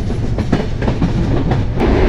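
The Banalata Express runs at about 84, a loud, close rumble of wheels on rail with a steady clickety-clack rhythm and a continuous roar throughout.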